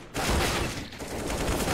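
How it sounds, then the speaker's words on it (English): Counter-Strike: Global Offensive gunfire during a one-versus-two pro match round with a FAMAS rifle, a loud, continuous burst of rapid shots filling nearly two seconds. "Naf, one versus two with the FAMAS."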